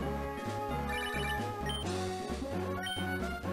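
A PokéNav call ringing in the Pokémon Emerald video game: a repeating chiptune ring pattern that beeps in steady rhythmic pulses, clear and uninterrupted, with no one talking.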